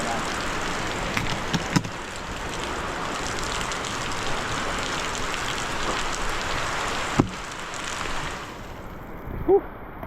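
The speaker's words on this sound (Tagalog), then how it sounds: "Grabe lakas ng ulan." Heavy rain pours steadily in a dense, constant roar, with a few sharp knocks and a brief voice near the end.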